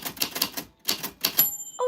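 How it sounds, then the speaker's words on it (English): Rapid mechanical typewriter keystrokes clatter in close bursts with a short pause, followed by a bright ringing ding from the carriage bell near the end. "Your name fell on the typewriter bell."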